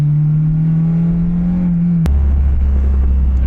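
An Acura RSX with new aftermarket modifications drives along, its engine holding a steady low drone before the note drops and deepens into a heavier rumble as it shifts, close and loud throughout.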